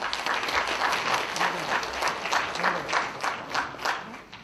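Encouraging applause from an audience at a Busan atopy and asthma prevention program results ceremony, sustained crowd clapping with a rippling, uneven rhythm throughout, fairly close and continuous.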